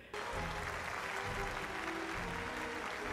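Audience applause in the film Maestro, a dense steady wash of clapping from a large crowd that starts abruptly and holds at full strength throughout.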